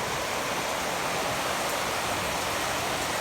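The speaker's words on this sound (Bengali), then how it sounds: "কত জোরে জোরে বৃষ্টি পড়তে লেগেছে" Heavy rain pouring down onto a house during a downpour, a dense, steady, loud hiss of falling water with no voices.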